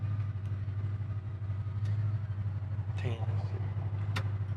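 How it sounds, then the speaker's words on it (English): A 1957 Chevrolet Bel Air engine idles steadily at about 800 RPM, a constant low rumble throughout with faint voices briefly over it. "Sits here and idles nice, idling right now at about 800 RPM."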